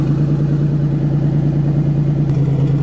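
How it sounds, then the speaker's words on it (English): A rough old 1990 Buick Century engine idles loudly with a throaty, pulsing exhaust rumble, steady and close throughout. "Don't you love the sound of redneck exhaust in the afternoon?"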